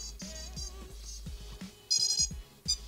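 Drone ESCs chirping through their startup tones after a battery is connected, a short series of clear electronic beeps and tone steps, close and alone over a low hum.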